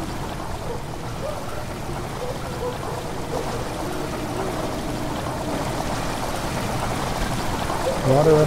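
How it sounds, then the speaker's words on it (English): Water rushing into a chamber in Amnesia: The Dark Descent, a steady pouring, streaming wash that holds throughout and swells slightly near the end, with a voice talking over it. "Water rushing into the chamber makes a strange sound."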